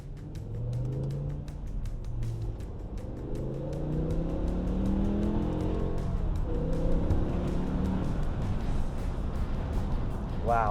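A BMW E60 M5 with a V10 engine reverses and pulls away, a rumbling engine note rising and falling in pitch as it moves, with a voice talking briefly over the mechanical sound.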